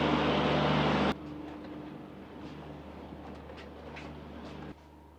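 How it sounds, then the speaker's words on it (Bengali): A passenger train standing at the NJP station platform in North Bengal in winter gives a loud, close rumble at first, then a steadier, quieter hum with faint clanks before it drops further at the end. "এটা হচ্ছে আমাদের ট্রেন।"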